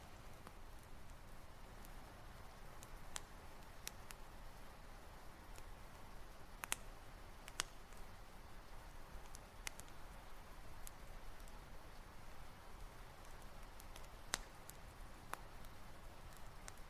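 Light rain patters steadily outside a woodland cabin, faint and soft, with scattered sharper drips and clicks standing out against the gentle hiss.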